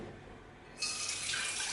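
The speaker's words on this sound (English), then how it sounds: "fill it with a little bit of water" Water from a kitchen tap suddenly starts gushing into a cooking pot, a steady close hiss and splash that continues to the end.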